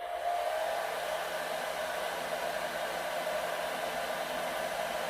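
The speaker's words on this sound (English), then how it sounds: "we're going to put this on low so we can hear the difference" Dyson Airwrap hair dryer running on its low setting, a steady close airy whoosh of broadband noise with a faint motor whine, unchanging and alone for the whole stretch.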